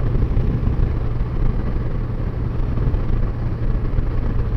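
A 1981 Honda Goldwing motorcycle cruising at about 55 mph on a highway in hot weather, a loud, steady low engine drone mixed with rushing wind and road noise, continuous and close.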